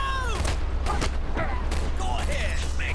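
Explosions and gunfire in a chaotic GTA-style survival shooter game, with repeated bursts and booms layered under constant action noise and excited talk.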